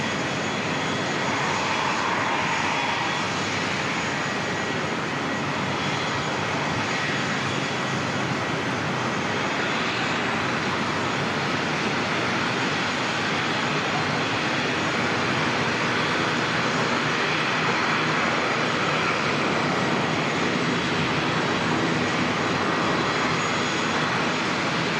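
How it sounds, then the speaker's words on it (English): An airliner on a Queenstown flight takes off from Auckland Airport, a loud, continuous jet engine roar that holds steady for the whole stretch with no voices over it. "Queenstown flight departing."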